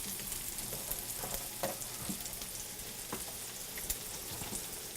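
Meatballs simmer and sizzle in sauce in a pan, a steady frying hiss under occasional soft stirring scrapes and taps, close up with no talking.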